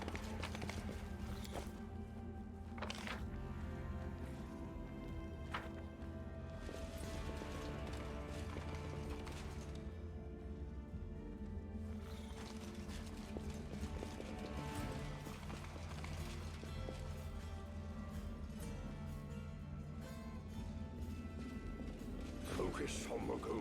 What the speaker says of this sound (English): You can hear the horse's hooves on the cement now.